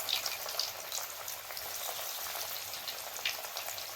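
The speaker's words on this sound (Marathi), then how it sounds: "आता आपण हे वडी तळायला टाकलेले आहे." Alu vadi, colocasia leaf rolls, frying in hot oil, giving a continuous soft crackling sizzle with scattered tiny pops, close but fairly quiet and steady throughout.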